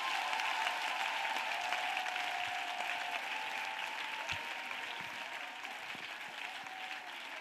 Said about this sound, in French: Acclamez pour Jésus. Clap for Jesus.